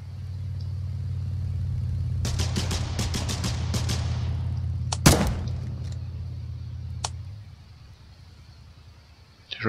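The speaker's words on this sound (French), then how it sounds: "On entend tirer." Gunfire in the war strategy MMO video game Foxhole: a rapid string of distant shots, then a sharper single crack and a later lone shot, all over a steady low engine-like rumble that fades toward the end.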